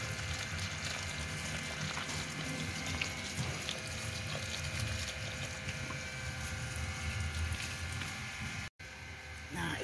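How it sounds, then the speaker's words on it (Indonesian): Water runs steadily through a soil-filled seedling pot while apple seedlings are being prepared, a continuous close splashing flow that barely changes and cuts out briefly near the end. "Ini udah keluar ya, udah ngocor airnya."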